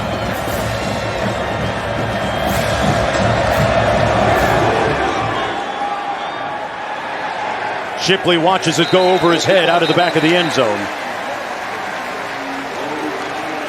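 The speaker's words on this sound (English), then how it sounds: "A raucous crowd here today." Big crowd at Carter-Finley Stadium during the 2021 Clemson vs NC State college football game cheers loudly under a commentator, then the roar fades, and later short rhythmic bursts of chanting follow.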